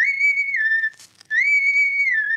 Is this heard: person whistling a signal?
yes